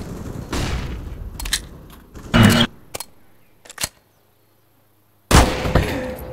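A flashbang grenade is thrown in Counter-Strike on the Inferno map: several sharp game bursts and clanks come in quick, uneven succession, then a short silence before another loud burst.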